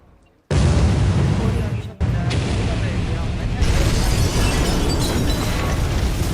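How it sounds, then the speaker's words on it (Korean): A secondary explosion inside a building during a disaster drill, a sudden loud broadband blast that cuts in and keeps roaring as sustained rumbling noise with a brief dip, close and dominant. "창흥융합 교육원 건물 내부에서 2차 폭발이 발생하였습니다."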